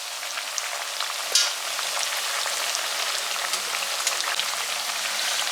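Parippu vada, lentil fritters, deep-fry fully submerged in hot oil, giving a dense, steady crackling hiss close by with a brief sharper pop early on and no voices.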